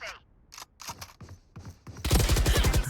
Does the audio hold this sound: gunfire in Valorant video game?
yes